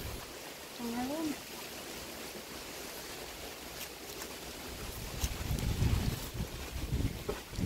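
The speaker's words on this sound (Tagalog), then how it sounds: "Oh, mahangin." Strong wind gusts buffet the microphone during a road trip on rural roads between Hilongos and Matalom, a steady broadband roar that swells louder near the end, with a brief voice speaking early on.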